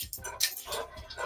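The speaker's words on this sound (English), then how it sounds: "I'm not sure what it is, but the dogs are letting me know about it." Dogs in a house bark and whimper in short, agitated bursts, several sharp yelps close by with whines between them, no talking over them.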